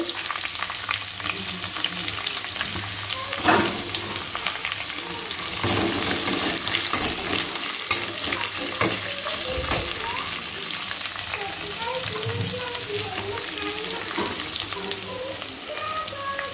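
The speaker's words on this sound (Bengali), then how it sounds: "এর মধ্যে এবার পেঁয়াজ কুচিগুলো দিয়ে দেবো" Chopped onions fry in a pan for homemade fried rice, a loud, continuous close-up sizzle with repeated scraping and clattering of a stirring spatula.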